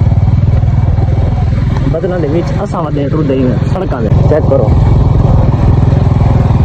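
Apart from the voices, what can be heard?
motorcycle riding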